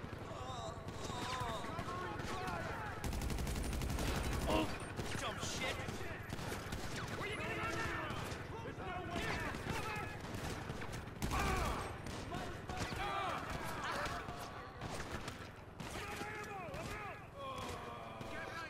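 Bursts of video-game gunfire go off in rapid clusters aimed at the player. Shots crackle under and between excited talk.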